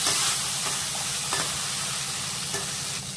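A ripe tomato sautéing in a hot pan after garlic, a constant crackling hiss with a few soft stirring scrapes, close by.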